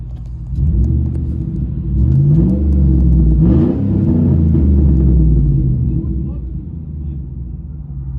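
A 2008 GMC Sierra pickup with straight-pipe exhaust idles steadily, a deep rumbling engine with a low throaty exhaust, swelling briefly in the middle before settling back to a loud, even burble.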